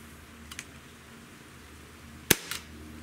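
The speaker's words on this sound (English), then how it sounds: "Now, let's give the Glock 19X a shot and see how it does over the chronograph." A Glock 19X .177 blowback airgun pistol fires one sharp, close crack with a brief slide-cycling snap right after, preceded by faint handling clicks in a quiet room.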